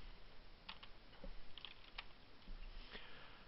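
Quiet typing on a computer keyboard while entering a command in a terminal: sparse, light key clicks at an uneven pace over a steady background hiss, with no talking.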